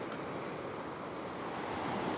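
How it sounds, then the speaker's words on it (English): Small ocean waves roll in on a rocky shore, making a steady, broad wash of surf with light wind noise and no voices. "There's a few little waves rolling in here, not too much."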